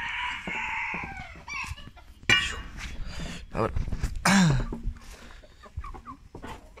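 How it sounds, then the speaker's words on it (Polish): Chickens cluck as the birds are let out of their enclosure, brief squawks and a possible crow mixed with a voice, a cough and rustling movement nearby. "Wypuszczamy sobie ptaki"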